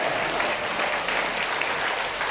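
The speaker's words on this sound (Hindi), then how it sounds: "ताली बजा दीजिए एक बार अच्छे से।" Audience applause at a religious gathering, steady dense clapping from a crowd filling the whole stretch without pause, loud and close.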